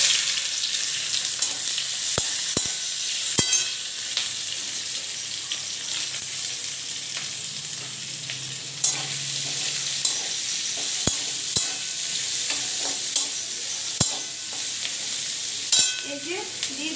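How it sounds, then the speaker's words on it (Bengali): Onions fry in hot oil with cumin and whole spices, a constant close sizzle broken by sharp spatula knocks and scrapes against the pan at irregular intervals. "ভালো করে একটু ভেজে নেব পেঁয়াজটা"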